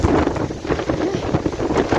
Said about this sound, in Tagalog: Tinutulak ng hangin ang ulan.